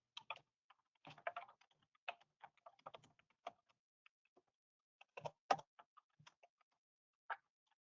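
Keys clack on a computer keyboard in irregular, sparse bursts, close and fairly soft, with short gaps between groups of keystrokes and no voices.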